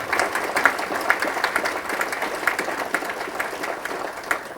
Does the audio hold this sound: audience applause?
yes